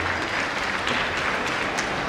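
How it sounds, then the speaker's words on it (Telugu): A college audience at Abhyasa Womens Degree College claps loudly, a thick, continuous wash of many hands sustained evenly from start to finish. "ఒక్కసారి మీ గురించి మీరు ఒక్కసారి గట్టిగా క్లాప్స్ కొడుతున్నాం."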